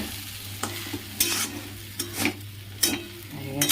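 Chow mein with onion, carrot and egg is stir-fried in a pan, with repeated scraping strokes of a utensil at an irregular rhythm over a continuous sizzle and a low steady hum, close by.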